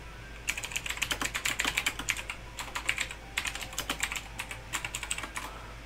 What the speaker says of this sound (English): Just sitting there typing.